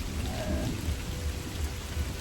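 Steady heavy rain pours outside a natural forest cave, with a dense continuous hiss and low rumbling thunder rolling underneath throughout.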